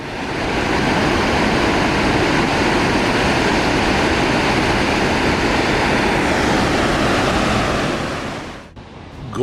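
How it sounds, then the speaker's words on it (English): Gullfoss, a two-stage waterfall in Iceland, roaring as a steady, loud broadband rush that fades out at the very end. "It is a two-stage waterfall with the first fall of 11 meters, or 33 feet, and the second fall of 21 meters or 63 feet"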